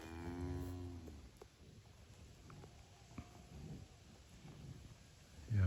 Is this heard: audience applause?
no